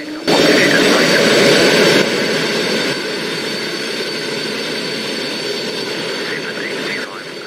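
Concorde jet engines run steadily in the X-Plane 11 flight simulator, a loud, continuous roar and whine that steps down slightly in level after a couple of seconds, heard up close with no speech.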